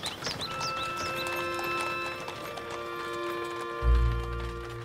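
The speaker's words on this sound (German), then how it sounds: "Ich glaube, da kommt er schon. Ja, mit Pferd und Wagen." Horse hooves clip-clop as a horse-drawn carriage arrives in a Sherlock Holmes radio drama, steady hoofbeats over a sustained musical backdrop, with a deep low thump near the end.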